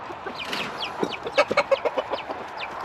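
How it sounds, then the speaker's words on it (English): Backyard chickens cluck excitedly while being fed pea pods, a busy run of close, quick clucks that builds into a burst of sharper, rhythmic calls. "let's go ahead and feed this to the chickens. And they're excited, they're coming."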